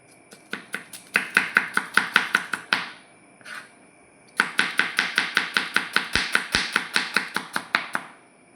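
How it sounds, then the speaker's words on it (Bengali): A knife chops onions finely on a board in fast, regular strokes, a run of crisp close taps, then a short pause before another long rapid burst. "এই পেঁয়াজ কাটিচ্ছি। এই পেঁয়াজ ঝুরি করতে হবে"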